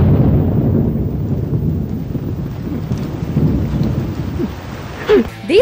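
A rainstorm with rolling thunder in a dramatic film scene: steady rain hiss under low, booming rumbles that swell and fade, then a brief burst of music-like tones at the end.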